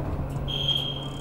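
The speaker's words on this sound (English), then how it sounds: "always press the alarms and the lighters." A smoke alarm being tested gives a short, steady high-pitched electronic tone lasting under a second over a low room hum.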